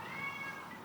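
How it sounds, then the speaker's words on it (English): A cat gives one short, close meow, fairly quiet and alone. "Meow."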